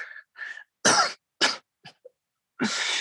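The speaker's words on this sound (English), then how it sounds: "That cough sounds bad." Several separate coughs, harsh and close, come in uneven bursts with short silences between them, ending in a longer raspy cough.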